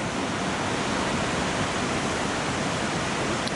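The Yellowstone River rushes below its waterfall in Yellowstone National Park, a dense, steady broadband roar of flowing water, constant and uninterrupted.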